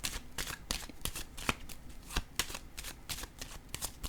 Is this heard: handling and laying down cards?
yes